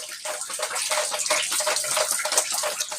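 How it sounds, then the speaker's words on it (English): Water from a thawed burst pipe pours down through a ceiling, a steady close splashing gush with dense irregular spatters and no talk over it. "you can see all that water coming down through my ceiling."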